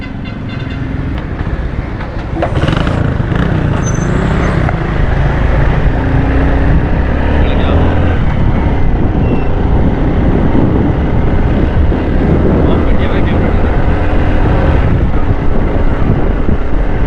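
Motorcycle riding fast on a road from Afghan Basti along the Northern Bypass toward Sohrab Goth. A loud, steady roar of engine and rushing wind buffets the microphone throughout without letting up.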